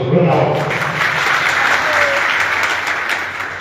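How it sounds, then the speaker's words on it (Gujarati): Party workers in a large crowd clap together at a public rally in Chunda, Bhesan. Loud, dense applause fills the whole stretch, fading slightly at the end, with voices faintly mixed in. "તમામ કાર્યકર્તાઓને પોતે તાળી વગાડીને બતાવો"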